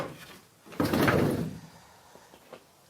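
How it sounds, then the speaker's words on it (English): The sliding side door of a 2015 Citroen Relay van with redesigned runners rolls along its track in one smooth, fairly loud half-second rumble, followed by a couple of faint clicks, close by with no one talking. "Modifications to this door, including redesigned runners, make it easier to use."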